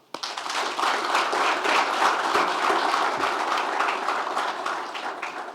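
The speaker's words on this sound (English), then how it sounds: "So I would like us to clap for them." An audience claps steadily for young people during a presidential visit to Norrsken Kigali, the applause starting abruptly, holding loud and even, then easing slightly at the close.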